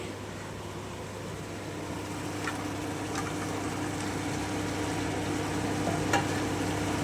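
Boiled peas for ghugni sauté in a pan with a continuous even sizzle and hiss, a few faint utensil taps scattered through, and no talking.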